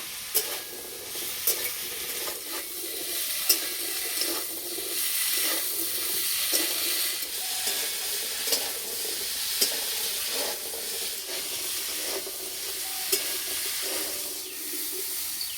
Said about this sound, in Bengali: আলু একটু ভালো করে ভেজে নেব।